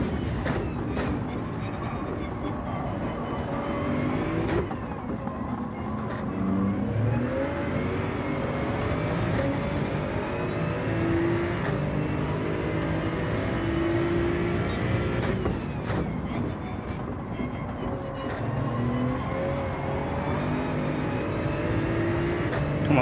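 A Toyota Supra Gr.3 race car in Gran Turismo 7 at Sardegna Road Track drones steadily with a continuous engine roar, its pitch shifting as the car accelerates and shifts, mixed with other cars nearby.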